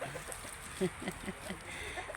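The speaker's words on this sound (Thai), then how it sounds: "ไก่หัวจุกไอ้มังกรค่ะ" Crested chickens cluck in short, scattered bursts on a farm, fairly faint against a low background hum, with no talking.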